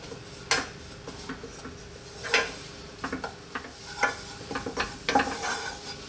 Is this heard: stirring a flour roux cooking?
yes